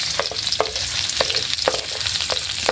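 Onion sizzling and frying in a pan, a dense steady crackle with repeated scraping stirs of a utensil at close range, no voices.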